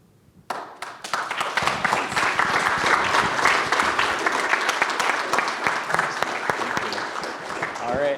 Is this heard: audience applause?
yes